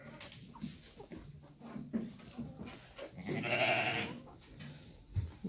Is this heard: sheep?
yes